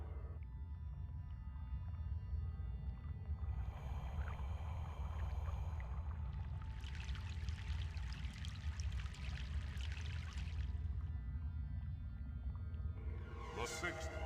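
In Broken Sword: The Sleeping Dragon, a boat crosses a river: a steady watery wash and pouring flow over a low rumble, with brighter splashing swells in the middle and near the end.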